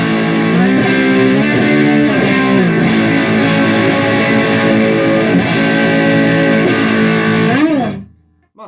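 A Gibson Les Paul Oxblood electric guitar played through a BOSS Blues Driver gives a coarse, gritty overdriven tone, with loud sustained chords and notes ringing for several seconds before cutting off abruptly.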